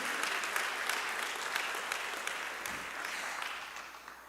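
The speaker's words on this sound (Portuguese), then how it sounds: "Você pode aplaudir o nome do Senhor, amados?" A church congregation applauding during a worship service, a sustained wash of many hands clapping together at a steady level, with a faint voice underneath.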